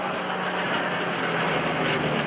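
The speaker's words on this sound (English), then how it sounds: "In the piston engine. 13 or 1400 horsepower Yak." Loud, steady roar of a 1300–1400 horsepower Yak piston-engine aerobatic plane pulling a tight high-G turn at a military air show, a continuous close engine drone with no pauses.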